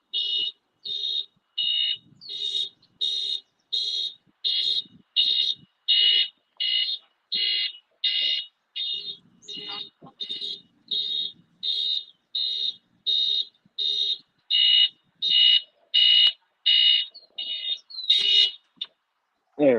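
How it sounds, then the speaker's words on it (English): An alarm clock rings with rapid, shrill electronic beeps in short regular bursts, repeating loudly for about twenty seconds, with faint background sounds beneath. "that is a very bad alarm clock"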